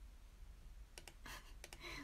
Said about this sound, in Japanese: これはなんかキーボードも押してるけど